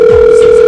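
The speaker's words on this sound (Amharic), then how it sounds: "ፊጋው ስልክ እየተደወለ ነው።" A telephone rings in a comedic skit: one steady, loud electronic tone sounds alone, continuous and unbroken for under a second.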